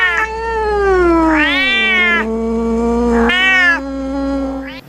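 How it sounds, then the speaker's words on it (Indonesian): A domestic cat meows repeatedly in drawn-out, wavering calls, close and loud with no other sound around it; the voice rises and falls across several long cries. "ada seekor kucing"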